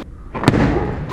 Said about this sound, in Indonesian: Ada mercon.